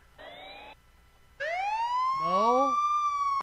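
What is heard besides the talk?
police car siren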